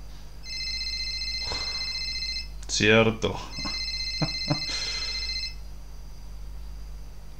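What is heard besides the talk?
telephone ringing in the video game Childhood Fears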